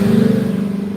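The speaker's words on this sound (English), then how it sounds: "That was a very loud truck." A loud truck rumbles past close by, a steady low engine drone with a pulsing throb that holds for about a second, heard alone.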